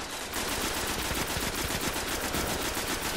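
Rapid automatic gunfire from the video game Destiny, a dense, continuous burst of loud shots rattling without pause throughout.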